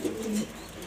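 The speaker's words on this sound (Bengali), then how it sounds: "এই যে দুইটা কবুতর" Pigeons being offered for sale give a short, soft coo up close, a brief low warble over faint background noise.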